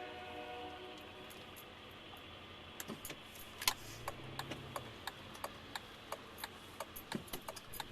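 A distant commuter train on Mercer Island, near a train station, rumbles faintly beneath a steady background hum, with a series of soft rhythmic clicks of wheels over rail joints.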